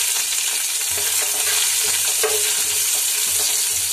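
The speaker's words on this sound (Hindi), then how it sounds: "जीरा फ्राई होते ही हम कड़ी पत्ता डाल देंगे, और इसी में हम प्याज डाल देंगे।" Cumin seeds, curry leaves and onion fry in hot oil for breakfast poha, a loud unbroken sizzle and crackle close by, with soft bumps of stirring throughout.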